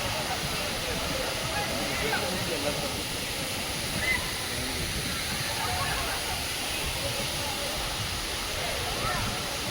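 Agaya Gangai waterfall in the Kolli Hills pours with a steady, unbroken roar of rushing water that fills the whole stretch, with no voices.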